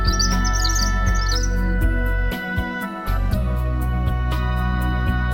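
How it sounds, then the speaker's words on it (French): A European robin sings bright, high twittering phrases over a loud, constant low hum, with brief clicks scattered throughout. "Lorsque deux rouges-gorges entrent en conflit, ils paradent en bombant leur plastron orangé, sifflent puissamment"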